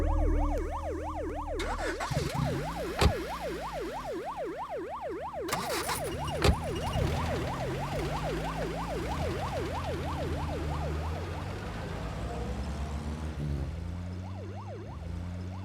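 A car siren wails in a steady rising-and-falling electronic pattern for most of the stretch, loud and continuous over traffic rumble, with a couple of brief knocks along the way.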